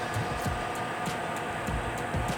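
A UNION evaporative air cooler fan runs with a steady, close, whooshing whir and faint regular ticking pulses.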